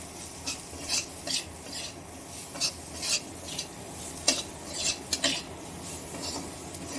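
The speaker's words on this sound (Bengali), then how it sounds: "জিরে গুঁড়ো এবং গোলমরিচ গুঁড়োটা খুব ভালোভাবে পেঁয়াজ এবং পনিরের সঙ্গে নেড়েচেড়ে মিশিয়ে নিলাম" A spatula scrapes and stirs paneer, onion, cumin powder and pepper powder around a pan in short, irregular strokes, quiet and close, with a few sharper scrapes against the metal.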